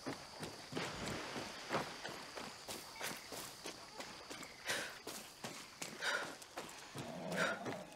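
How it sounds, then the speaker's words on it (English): A horse in the Far Cry 6 video game clip-clops along with hoofbeats, snorts and a whinny, mixed with game sounds and a voice talking. "Oh, horse."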